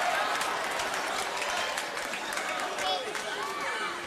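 A late-night television studio audience in San Francisco claps and cheers steadily at a monologue joke, a dense, even wash of applause with a few faint voices rising over it.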